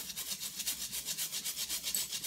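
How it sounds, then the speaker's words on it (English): A scrub brush works over fresh pineapple rind in circles, making a steady rhythmic scratchy rasp of about six strokes per second, close and even throughout, with no talk. "I start scrubbing. And I'm going to try and get as much of this pineapple rind as possible"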